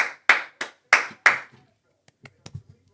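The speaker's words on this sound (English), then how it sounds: "Golf clap." A slow, sparse golf clap on a live football draft reaction show: five distinct, close hand claps at a relaxed, even pace, followed by a few faint light taps.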